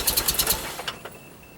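A Toyota Celica fitted with an old distributor cap and rotor cranks over in a quick, even series of starter pulses that stops after about half a second, leaving faint ticks and quiet with no talk.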